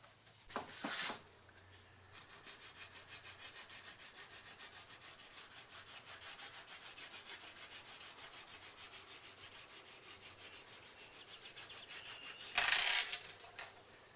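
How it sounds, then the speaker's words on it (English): A steady rubbing sound of wax being worked onto the blade of a 1910 Disston D-8 hand saw, continuous and moderately quiet, with a couple of brief handling knocks at the start and near the end. "I'll just give it a good coat of wax to stop the rust."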